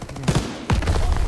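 Gunfire in Call of Duty WW2, a quick burst of sharp shots with a hard crack partway through, loud and close amid game noise.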